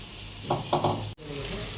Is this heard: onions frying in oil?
yes